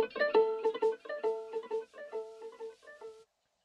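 Berry ear candy one-shot from a synth kit, time-stretched: a bright, tonal melodic phrase of rapid plucked notes in a choppy rhythm, clean and alone, cutting off sharply into silence.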